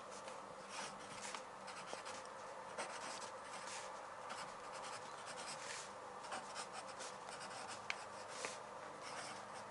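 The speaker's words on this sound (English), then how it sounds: "Let's write, first of all," Pen or pencil scratching across paper while music notation is written out by hand, a steady close rubbing and scraping that runs throughout with small ticks and no talk.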